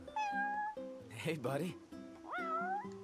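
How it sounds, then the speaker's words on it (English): Meowing from a cat in the Final Fantasy XV video game, two clear drawn-out mews near the start and end, with someone speaking between and over them. "Cat, let me talk to you."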